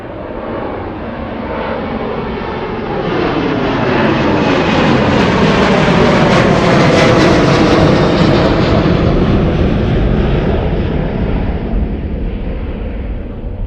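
An airliner flies past at Anchorage airport, its loud jet roar swelling as it approaches, peaking overhead with a sweeping rushing tone, then slowly easing away.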